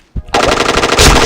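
Rapid automatic gunfire in a first-person shooter game, a loud continuous burst of shots lasting about a second right after a brief click.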